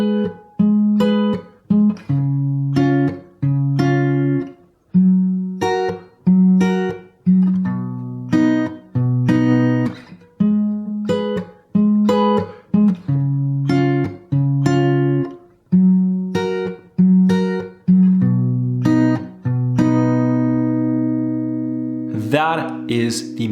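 Guitar plays the main riff of a song, a repeating fingerstyle figure on the 6th, 3rd and 2nd strings, with clear plucked notes in a steady looping rhythm, close and alone, ending on a sustained ringing chord.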